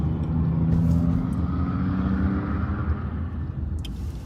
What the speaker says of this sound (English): Oh, that noise, like a loud car. Might have been that Chrysler 300.